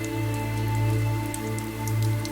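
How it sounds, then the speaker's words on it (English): Rain taps softly against the windshield of a car driving a highway at night, light scattered drops over a constant low engine and road drone, heard from inside the cabin. "The rain slowly grew steadier again, tapping softly against the windshield"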